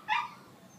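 A young puppy at a city animal shelter gives a single short, high yip-whimper, brief and moderately close, followed by quiet room ambience.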